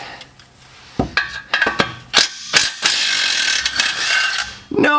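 Ratchet wrench with a deep socket clicking in several short bursts, then a longer steady run of rapid metallic ratcheting close up, with a sharper clank at the end.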